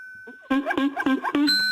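A person vocally imitates an orangutan, giving a few short, loud harmonic hoots and cries in a quick uneven rhythm, close to the mic, with a faint steady electronic tone beforehand.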